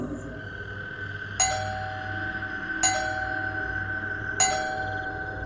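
Three clear bell-like doorbell dings ring out at steady intervals, each fading slowly over a low steady hum.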